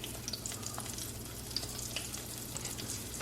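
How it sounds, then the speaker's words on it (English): Cinnamon donut sticks frying in hot oil, a steady dense sizzle with scattered crackles and pops, close and continuous with no talk. "So I'm just going to take them and put them in your hot oil."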